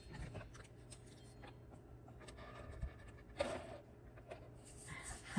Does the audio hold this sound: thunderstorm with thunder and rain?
no